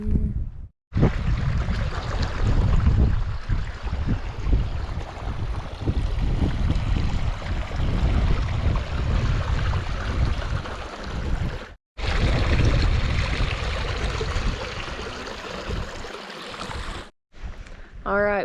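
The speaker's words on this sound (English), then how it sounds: "The Kitchen Creek down there." Kitchen Creek, a stream along a hiking trail, flows in a steady, broadband wash that fills the clip with only two brief breaks, loud and close throughout.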